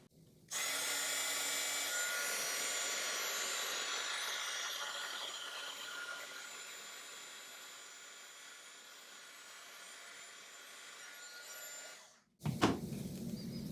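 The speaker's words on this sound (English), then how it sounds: "you want to let your heating tool heat up for a moment before you start to apply it to whatever the image is" An embossing heat tool for Christmas tags runs as a steady, fairly loud blowing hum for about twelve seconds, then cuts off sharply, followed by a brief knock and softer handling noise.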